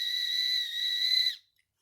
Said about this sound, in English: this is actually a special clicker, it's got a whistle in it